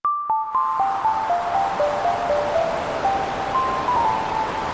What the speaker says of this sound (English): That is just white noise that is being added.